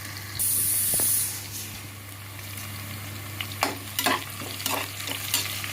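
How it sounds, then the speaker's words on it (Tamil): Chopped onions sizzle steadily in a pan as they are sautéed for mushroom biryani, a brief spray-like hiss at the start, then scraping stirs and clatters of the spoon over the continuous frying. "இப்போ இதை நல்லா சாட் அவுட் பண்ணி நல்லா வதக்க விடலாம்"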